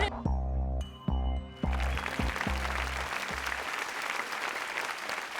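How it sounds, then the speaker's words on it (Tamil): Several loud musical stabs punctuate the opening two seconds, then a studio audience at a Tamil television game show breaks into steady applause that carries on to the end. "கண்டிப்பா ஸ்ருதிக்கு ஒரு பெரிய கைத்தட்டல் நம்ம கொடுக்கணும்"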